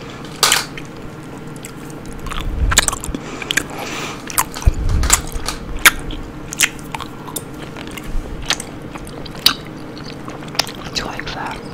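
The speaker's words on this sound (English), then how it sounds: "Do you like me chewing in your ear?" Close-miked ASMR-style chewing and crunching of food: irregular, crisp bites and crunches right up near the ear, with brief quiet mouth sounds between them.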